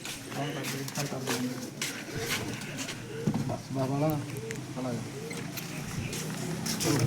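Pakistani teddy pigeons in a loft coo in low, rolling bursts, fairly close, while people talk over and around the birds throughout.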